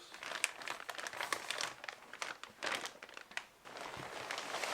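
Plastic zipper-bag packaging around a Nomatic Travel Backpack crinkles and rustles steadily at close range, a continuous busy crackle with brief louder crunches and no talk.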